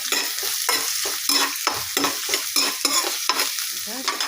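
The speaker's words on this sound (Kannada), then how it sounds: "ಒಂದು ಈರುಳ್ಳಿ ಕಟ್ ಮಾಡ್ಕೊಂಡು ಹಾಕೊತಾ ಇದ್ದೀನಿ ಈರುಳ್ಳಿ ತುಂಬ ಫ್ರೈ ಆಗಬೇಕು" Chopped onion fries in a hot pan at home, a steady loud sizzle broken by regular scraping strokes of a spoon stirring, about twice a second, with no talk.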